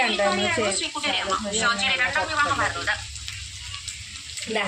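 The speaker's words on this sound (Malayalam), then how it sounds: "ഒരു മീഡിയം സൈസ് ഫ്രൈ ആണ് നമ്മൾ ചെയ്യണത് നല്ല ഹാർഡായിട്ട് മീൻ ഫ്രൈ ആക്കി എടുക്കണം" Fish pieces shallow-fry in hot oil for a Kerala-style fish pickle, a steady crackling sizzle running beneath a person talking, then heard alone briefly once the voice pauses.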